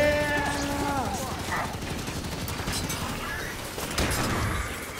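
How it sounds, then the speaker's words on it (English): Halo 5 battle with explosions and turret gunfire: dense bursts of rapid shots and booms mixed with game sound effects and voices, staying busy and moderately loud throughout. "Oh my god, so many explosions!"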